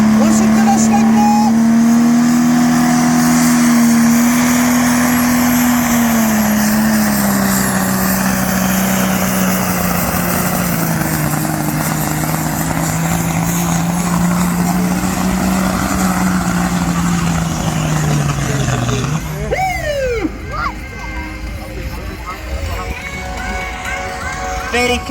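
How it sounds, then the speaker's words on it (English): A tractor-pulling tractor at a Brechin, Scotland pull runs its engine at a loud, sustained roar for about twenty seconds, pitch dipping slightly as it strains, then cutting off abruptly before quieter rumbling and crowd noise. "Put a lot of work into this tractor to get it going this weekend."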